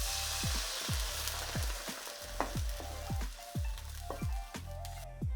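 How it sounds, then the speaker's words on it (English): Shrimp heads fry over high heat in a pan, a continuous crackling sizzle broken by regular rhythmic stirring or scraping strokes, close and fairly quiet, with no voices. "Now we use the high heat to fry the shrimp head."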